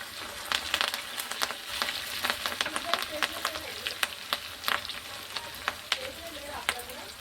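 Green chillies and curry leaves frying in hot oil in a pan, a steady dense sizzle with crackling pops throughout, spattering bursts rising and falling as the pieces are stirred, close and fairly loud, with no talk.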